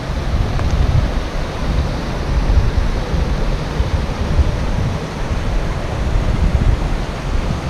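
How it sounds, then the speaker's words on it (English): Small waterfall at a canoe portage in Woodland Caribou Provincial Park, a steady broadband rushing roar of falling water, close and constant with no talk. "It's actually from Glen to another part of Glen, but it's a nice little waterfall."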